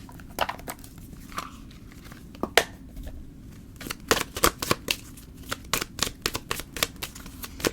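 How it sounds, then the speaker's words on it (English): Tarot cards drawn from a deck for a pick-a-card reading, producing a series of sharp, close papery flicks and shuffles in irregular bursts, with no talking. "Let's pull some cards from this deck."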